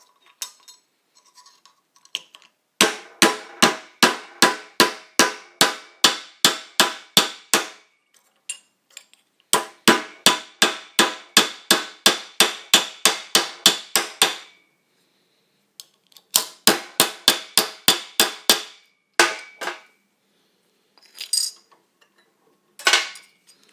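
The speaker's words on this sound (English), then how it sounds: "I'll hit it with the hammer and see how much brazing or how far it's got." A hammer strikes a brazed copper HVAC line joint held in a vise, sharp metallic clinks repeated rapidly in several long bursts separated by pauses, loud and close with no talk.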